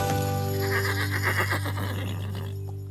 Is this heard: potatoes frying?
no